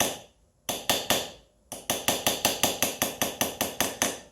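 A hammer taps a chisel against a brass sculpture in close, sharp metallic strikes: three quick blows, a pause, then a long steady run of about fourteen evenly spaced taps.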